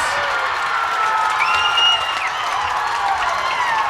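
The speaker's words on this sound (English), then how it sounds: "And with every three-pointer, the crowd energy amplifies" Spectators cheer loudly after a three-pointer at a high school girls basketball game, a dense, sustained roar of shouts and applause with a few shrill whistles rising above it, close and continuous.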